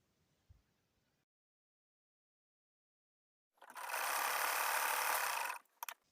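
A sewing machine stitches lace onto a folded fabric edge in one steady, loud two-second run after a quiet pause, ending with a few short bursts.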